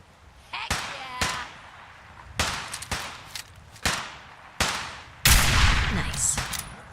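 Gunfire in Fallout 4 with the Sim Settlements 2 mod as a hostile shoots at a settler: a string of sharp, loud shots, some single and some in quick pairs, spaced irregularly, ending in a heavier, longer burst.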